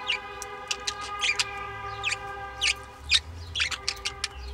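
A pair of pet birds chirps in a cage, giving bright, quick tweets in scattered bursts over a steady low hum and faint background noise indoors.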